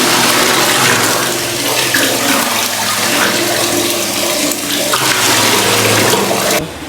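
Cold tap water pours steadily and loudly into a bath to mix with hot water, a continuous close gushing stream that cuts off at the end, with no talk.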